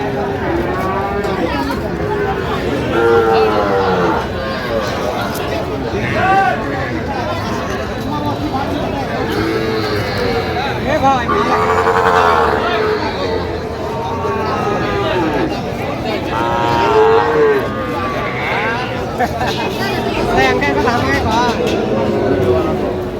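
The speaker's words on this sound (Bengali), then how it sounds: "ষাঁড় বাচ্চা" A Sahiwal bull calf moos several times amid a busy cattle market crowd, loud bellowing calls rising over constant chatter and talk nearby.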